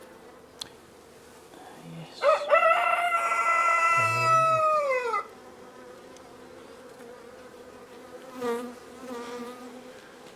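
Honey bees hum in a steady, low buzz around an open beehive frame of sealed brood on a farm. A rooster crows loudly partway through, and a voice briefly speaks.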